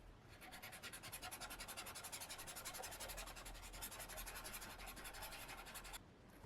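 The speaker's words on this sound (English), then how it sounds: "Let's see how it blends the charcoal" A blending pencil rubs back and forth over charcoal on paper in a steady, rapid scratching rhythm, close and fairly quiet, alone for several seconds before stopping abruptly.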